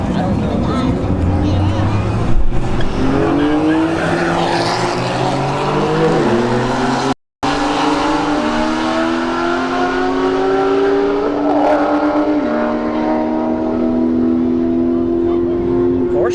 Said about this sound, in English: Porsche 911 edges out the C6, 137 miles an hour.